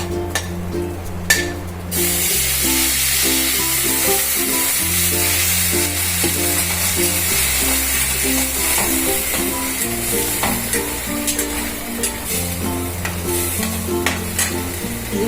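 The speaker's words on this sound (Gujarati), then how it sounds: "તો હવે આપણે એમાં નાખવાનું થશે દૂધ" Milk hits toasted, browned bread in a pan over a high gas flame while making bread sheera, giving a loud, continuous close sizzle with a spoon scraping and clinking against the pan throughout.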